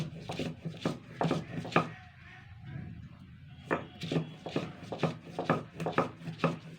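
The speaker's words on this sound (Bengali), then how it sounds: "সবগুলো কিন্তু সুন্দর করে বেটে নেব জল দিয়ে দিয়ে বাটতে হবে কিন্তু" Green chillies ground into a paste with water on a grinding stone, rhythmic scraping and rubbing strokes in repeated bursts, with a brief pause in the middle.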